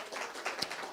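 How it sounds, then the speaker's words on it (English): An audience applauds its local business partners during a church gathering, a steady wash of many hands clapping at moderate distance, even and continuous throughout the short moment. "Let's give them a round of applause."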